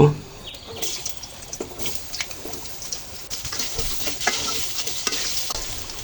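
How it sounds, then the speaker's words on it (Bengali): Potatoes fry lightly in a wok left golden from fried fish, giving an ongoing sizzle punctuated by sharp clinks and scrapes of stirring, close and moderately loud. "এখন এই যে আলুগুলো হালকা করে ভেজে নেব"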